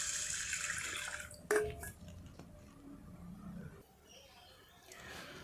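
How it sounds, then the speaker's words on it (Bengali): Water is poured over washed rice in a bowl to soak it for chicken biryani, a close, rushing pour that trails off into gentler trickling and splashing. "এরপর আমরা চালটিকে জল দিয়ে আধ ঘন্টা ভিজিয়ে রাখব।"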